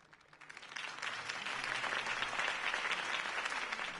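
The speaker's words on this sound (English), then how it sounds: "could have heard that applause" Applause from a crowd in the video game Batman: The Telltale Series swells quickly and holds steady, a dense wash of many hands clapping at close to moderate distance.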